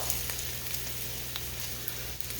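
Salmon patties sizzling in a pan, a steady close crackle with scattered small pops over a low hum, no voices.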